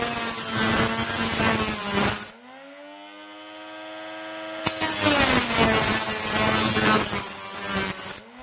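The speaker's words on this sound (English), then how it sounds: "I went cautiously in on the first coarse grinding stone, and there were some surprising results." Electric knife sharpener grinding a knife blade on its coarse stone, close and loud. Two harsh, rasping bursts of grinding are separated by a few seconds of the bare motor whining on its own.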